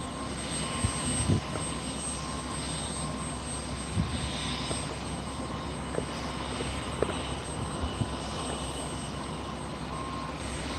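A light aircraft on its take-off roll at Barton Aerodrome, a continuous engine drone heard from a distance under outdoor wind noise, with a few faint knocks scattered throughout.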